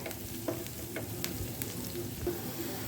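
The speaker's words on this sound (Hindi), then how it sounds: "डालेंगे जी प्याज और ज़ीरा और इसको जो है 1 मिनट के लिए हम अच्छी तरह से भून लेते हैं" Onion and cumin seeds frying in a pan, a steady close sizzle with occasional light pops and scrapes of stirring throughout.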